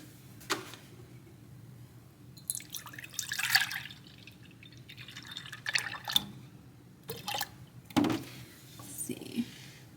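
Whole milk poured into a large measuring cup in a home kitchen, heard as several short, splashy pouring bursts mixed with quiet kitchen handling noises.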